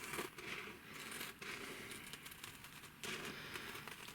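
Scissors cutting out a scratch-built piece for a Fallout: Wasteland Warfare diner terrain model, a steady crisp rasping that runs throughout at close range, broken by a few brief pauses between snips.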